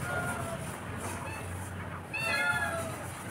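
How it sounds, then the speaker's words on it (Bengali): A house cat in a home kitchen, where fish is being boiled, meows a few times nearby, with quieter calls early on and a sharper, louder meow near the end over a low room hum. "সবাই শোনো। ম্যাও ম্যাও ম্যাও।"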